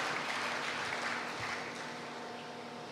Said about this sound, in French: On peut l'acclamer. Non, acclamez plus fort